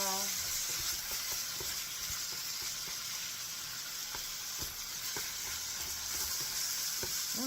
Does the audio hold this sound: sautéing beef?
yes